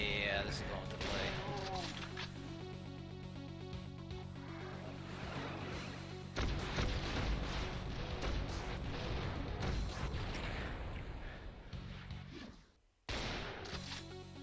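Rocket launcher fire in the Doom mod Mutiny, a dense barrage of explosive blasts and rumbling booms, loud and continuous with a sharp break near the end, over game music and heavy action noise while a person talks over it.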